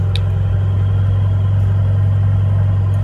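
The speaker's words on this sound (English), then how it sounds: "And then it turns into sports plus and the engine goes on." The Aston Martin Valhalla, a hybrid supercar with over 1050 hp, with its engine running in Sport Plus mode: a loud, steady low rumble and drone held close and even throughout, with no talk.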